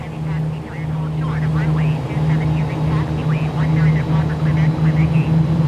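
Airbus A32NX jet engines in Microsoft Flight Simulator 2020 hum steadily at a low drone while spooling up for taxi at Miami, a constant loud engine tone with a faint whine above it.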